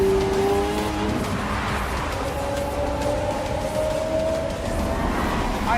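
A 1,241 brake horsepower all-electric supercar with four electric motors, one per wheel, drives past with a continuous rising electric whine over dense road and tire roar, steady and loud without pauses.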